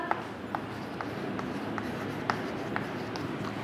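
Teacher writing examples on a classroom board, a series of regular taps and scratchy strokes of chalk or marker at a moderate pace over a quiet room tone.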